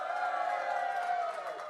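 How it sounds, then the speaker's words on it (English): Crowd cheering effect at the Orange Blossom Social morning show, a brief muffled swell of voices and whoops with a steady, slightly distant tone that fades at the end. "and the crowd goes wild"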